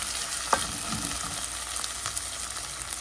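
Turmeric, chili powder, coriander, cumin and garlic paste sizzle steadily in hot oil for a pangas fish and eggplant curry, a close, continuous crackle with a few soft stirring scrapes.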